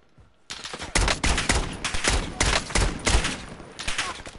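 Rapid bursts of automatic gunfire from the video game Call of Duty Warzone, loud and close, with dense repeated volleys after a quiet start and brief pauses between strings of shots.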